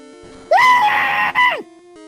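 A person imitating the Pokemon Screech move with a loud, sustained screeching 'merp' that rises, holds for about a second with a brief break, and then drops away.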